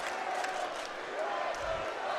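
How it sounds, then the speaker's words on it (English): Fairfield home crowd at a men's college basketball game against Saint Peter's, a dense arena roar of massed voices with rhythmic swells, heard from a distance under the ambient din. "Fairfield crowd chanting, you can't do that"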